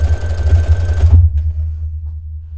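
Sewing machine with a universal needle stitching knit fabric, a loud close mechanical whir with rapid rhythmic thumping for about a second, then the motor stops and it falls quiet.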